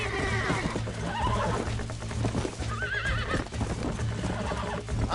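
A horse in Red Dead Redemption 2 neighs and whinnies in several rising, quavering calls over a dense, steady bed of hoofbeats and game ambience, loud and close throughout.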